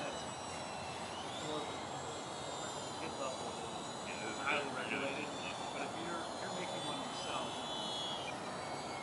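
Model airplane in its first outdoor flight of the year, a steady distant engine whine with tonal bands, heard in open air under faint background talk.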